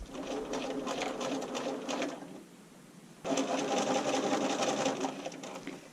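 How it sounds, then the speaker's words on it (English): A sewing machine bastes stretch fabric onto fold-over elastic, stitching steadily and close for about two seconds, pausing briefly, then resuming at a slightly louder level. "I'm just going to put a very slight amount of tension on it and baste it in."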